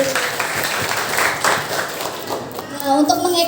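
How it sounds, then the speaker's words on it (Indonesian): Audience at a university class presentation applauding themselves, with a burst of dense clapping that fills the room, alongside a voice speaking. "bisa tepuk tangan untuk diri sendiri"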